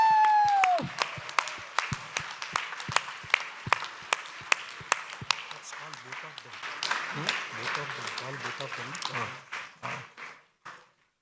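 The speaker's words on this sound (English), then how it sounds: "Give it a big round of applause to Miltonian Sanjay Mansukhani." Audience at an on-stage award announcement applauding: individual sharp claps near the microphone over a broader crowd clapping that gradually fades out.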